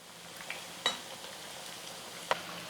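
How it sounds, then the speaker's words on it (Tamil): A cutlet frying in oil and being turned on both sides. A faint, quiet hiss is broken by two sharp clinks of a utensil against the pan. "அப்பப்போ ரெண்டு பக்கமும் திருப்பி கொடுத்து திருப்பி கொடுத்து ஃப்ரை பண்ணி எடுத்துக்கலாம்"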